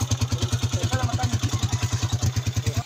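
A scooter engine runs steadily at close range, its fast regular low putter pulsing evenly throughout with a slight clattery edge and no voices.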